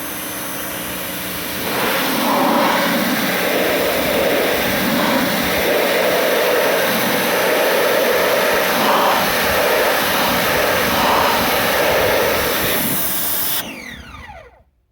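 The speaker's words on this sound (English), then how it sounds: "See, we're getting no more surging in the pressure washer anymore." A pressure washer runs steadily after air is purged from its gun, a loud, even mechanical whine and rush that swells after a quieter start, holds without surging, then cuts off abruptly near the end.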